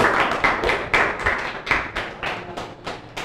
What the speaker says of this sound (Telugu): ఒకసారి గట్టిగా మీరు చప్పట్లు తెలుసాల్సిందే కోరుతున్నాను